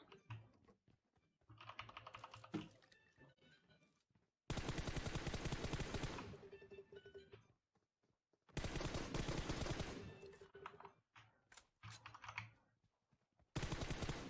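Bursts of automatic gunfire in the video game PUBG Mobile, loud rapid volleys alternating with quieter stretches of clicks and movement noises, with abrupt starts and stops.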